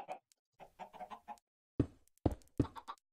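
Minecraft chickens give short, soft clucks in a small pen, scattered through the clip, followed by several sharp, louder thuds like blocks being placed.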